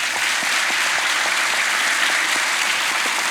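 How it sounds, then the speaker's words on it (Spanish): Dense, steady audience applause from a crowd at a talk, many hands clapping continuously and close without a break. "Un aplauso."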